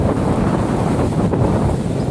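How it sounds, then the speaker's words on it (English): Strong gusting wind buffets the microphone on the side of La Soufrière volcano in St Vincent, a loud continuous roaring rumble with no voices. "It's awfully windy today, really windy"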